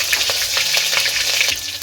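Mustard seeds and chillies fry in hot oil with a loud, continuous sizzle broken by crackly popping, close up and with no talk.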